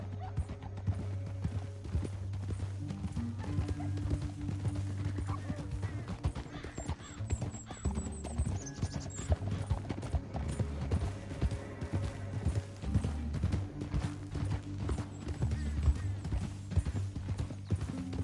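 Steady horse hooves clip-clop at a trotting rhythm in Red Dead Redemption 2, faint and continuous over a low droning music bed with occasional other game sounds.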